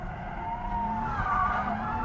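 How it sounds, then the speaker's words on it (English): A Toyota GR Supra with a manual transmission drifts on a track, its tires screeching in a continuous squeal over a steady engine roar heard from fairly close. "First time drifting my GR Supra."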